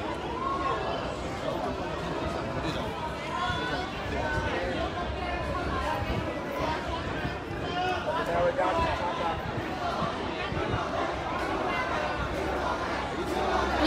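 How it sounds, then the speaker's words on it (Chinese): A street crowd in Tsim Sha Tsui East jeers and shouts together in a continuous loud roar of many overlapping voices, with chanting bursts rising from the babble. "現場的人都是起哄啊，並且是一起大嗌跳下嚟，跳下嚟。"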